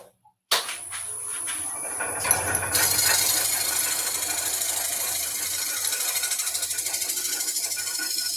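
A lathe gouge scrapes a spinning wooden piece on a woodturning lathe, a steady close rasping whir that starts abruptly and runs continuously with a faint rhythmic pulse from the rotation.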